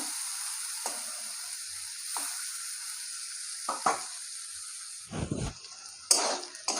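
Bitter gourd fries in oil with a little turmeric, giving a steady close sizzle throughout, broken by a few sharper spatters and utensil stirring scrapes near the end.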